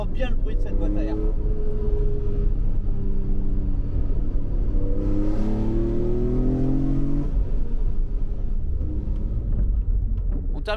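Heard from inside the car, a BMW E46 M3 CSL's engine and air intake box roar deep and continuously while driving, with the pitch climbing through a couple of hard pulls, loud and close.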